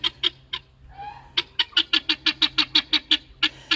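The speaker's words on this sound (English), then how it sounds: "That's a really loud bird." A loud pet bird squawks in a fast run of sharp, evenly spaced harsh calls, close and piercing, broken briefly by a lower drawn-out cry before the rapid squawking resumes.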